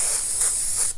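A Master S62 siphon-fed dual-action airbrush sprays paint in a steady, close, continuous hiss that holds evenly for about a second before cutting off abruptly.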